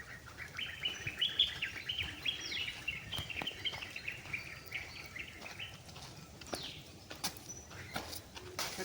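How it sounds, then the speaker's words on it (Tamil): Birds in leafy college grounds chirp and call repeatedly from a short distance, with bright twittering phrases over a quiet outdoor background, no voices. "பறவைகள் சத்தம் தான் இருக்கும்."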